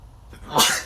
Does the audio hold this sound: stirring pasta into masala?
no